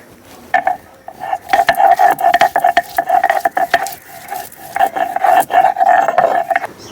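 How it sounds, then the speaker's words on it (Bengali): Garlic is ground into paste on a grinding stone, heard as loud repeated rasping, scraping strokes in a steady rhythm, close by, with short pauses between bursts. "প্রথমেই রসুনটা বেটে নিচ্ছি।"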